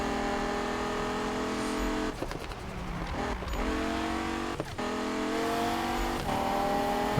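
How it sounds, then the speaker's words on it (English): An SRT Viper in the Need For Speed 2015 racing game roars steadily under acceleration, its engine tone rising and dropping through gear shifts with brief dips, continuous and loud throughout. "One of the best things about this car is acceleration."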